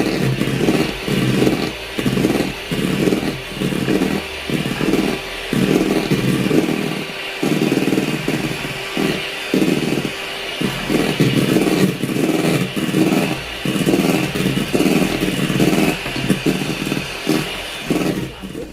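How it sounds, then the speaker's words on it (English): An electric whisk beats sugar into a Japanese cotton cheesecake mixture, making a loud, buzzing motor whir that pulses in quick rhythmic bursts as the beaters move through the bowl. "Once I've added the sugar, I'm going to continue to whisk."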